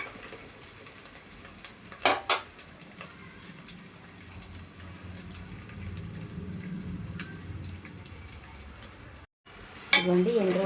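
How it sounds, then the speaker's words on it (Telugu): Dried shrimp fry in a pan until golden, cooked for a bottle gourd soup: a steady close sizzle runs throughout, broken by a few sharp clinks of a stirring utensil against the pan. "ఇదిగోండి ఎండు రొయ్యలు బాగా దోరగా ఏగినవి"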